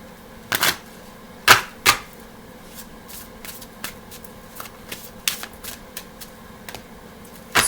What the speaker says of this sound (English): One more shuffle, all right.